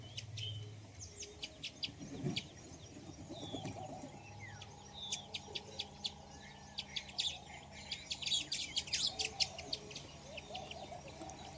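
Many birds, including sparrows, chirp and tweet in quick, scattered bursts at a morning rice and sorghum feeding spot, growing busier later, with low pigeon cooing in the background.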